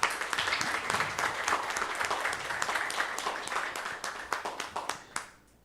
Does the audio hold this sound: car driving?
no